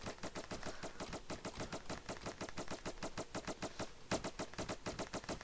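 Rapid foam blaster fire in the Roblox game Foam Frenzy, a dense run of fast, evenly spaced shots repeating without pause and a brief louder burst near the end, no talking over it.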